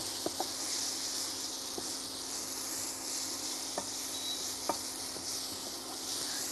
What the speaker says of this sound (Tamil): பாருங்க கை விடாமல் அது வதக்கணும் இல்லைன்னா அது அடிபிடிக்க ஆரம்பிச்சிடும்